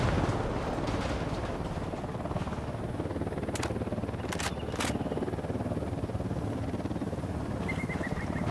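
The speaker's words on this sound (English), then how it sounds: "Helicopter inbound." Helicopter approaching in the tactical shooter Ghost Recon Wildlands, a continuous loud rotor rumble filling the scene with a few short sharp clicks over it.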